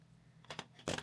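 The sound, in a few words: scissors cutting off crochet yarn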